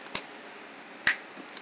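Two crisp finger snaps about a second apart, close and clear against near silence, with a faint third tick trailing after.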